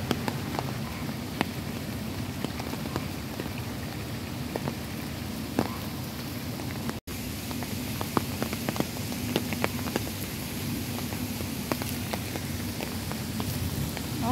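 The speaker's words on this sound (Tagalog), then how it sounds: "Mas maganda sana kung hindi masyadong malakas yung ulan or ambon lang" Rain falling outdoors at Kowloon Park's bird lake in Hong Kong, a steady hiss of drops on surfaces with scattered sharper patters throughout and a brief dropout midway, no talking.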